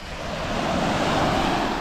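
Sea waves wash onto the shore along the Erdek Kapıdağ peninsula, a steady broadband rush of surf mixed with gusty wind buffeting the microphone, fairly close and continuous.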